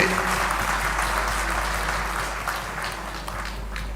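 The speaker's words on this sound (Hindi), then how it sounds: "सफाई मित्रों का तालियां बजा के पूरे प्रदेश में स्वागत कीजिए" Steady applause from a large gathering welcoming sanitation workers at a municipal council staff event, a dense, continuous wash of clapping that holds at an even level throughout.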